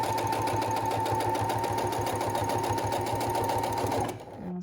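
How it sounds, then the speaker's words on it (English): A sewing machine stitches elastic onto a fabric face mask, running in a steady, loud, continuous mechanical whir close by, then stopping abruptly near the end. "Over the elastic to make sure it's really stitched in there good."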